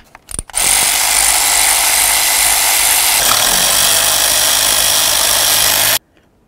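Power tool loosening valve cover mounting bolts on a 2007-2017 Ford Expedition, one loud continuous whirring run of about five seconds after a brief click, then stopping abruptly.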